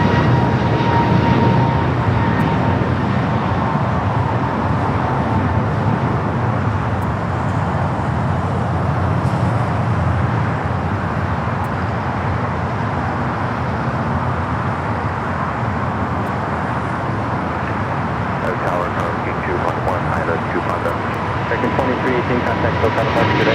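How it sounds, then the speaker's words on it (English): An airliner rolls down runway 25 left at LAX on its takeoff run, a steady broadband engine roar that holds loud and constant throughout, with voices talking over it. "Actually, now starting to roll down 25 left."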